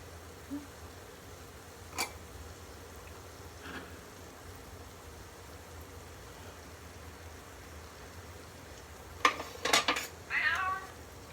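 A cat gives a few meows toward the end, after quiet stretches with light clinks of dishes and utensils in a kitchen where yogurt pancakes are being made.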